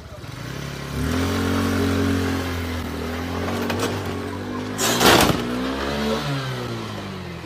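A stolen moped's engine revs hard and loud nearby as thieves flee on it, holding a steady buzzing drone with a sharper clattering burst partway through.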